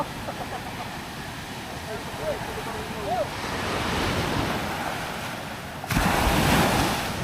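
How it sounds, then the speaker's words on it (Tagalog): Ocean waves surge and wash in a steady roar with wind buffeting the microphone, swelling louder toward the end, and faint voices barely audible beneath. "Ayan na. Ang alon."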